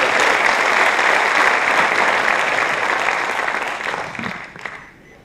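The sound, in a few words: audience applause welcoming Ram Naik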